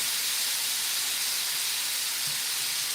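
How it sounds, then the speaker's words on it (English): Broth added to a hot pan with pork chops, giving off a steady, even steaming hiss and sizzle close by for three seconds, with no talking over it. "I'm gonna add a little bit of broth in here and start kind of bringing up some of these flavors. We'll steam this out just a little bit."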